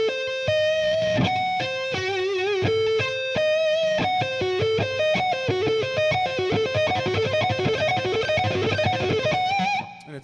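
A distorted electric guitar plays a fast run built on a diminished chord shape across the top strings, a steady stream of bright picked notes stepping up in pitch, loud and close, ending abruptly after about ten seconds.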